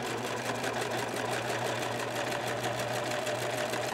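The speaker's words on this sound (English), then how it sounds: "I'm sewing both of these layers and the elastic all in one." A sewing machine runs steadily, stitching two fabric layers and elastic together for a peplum top, a close continuous rapid whir with no pauses and no voices.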